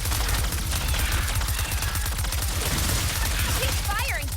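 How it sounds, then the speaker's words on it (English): Rapid weapon fire in Ratchet & Clank Rift Apart, a dense, continuous stream of loud sci-fi gunshots with a few whistling electronic effects near the end. "Keep firing, or they will overwhelm us."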